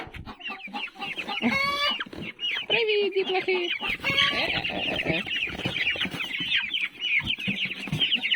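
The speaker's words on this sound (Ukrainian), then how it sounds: "І тут зараз проживають курчата, яким, ну, будемо казати, місяць." Month-old chicks in a homemade brooder cluck and peep busily throughout, with a person's voice speaking over the birds near the start.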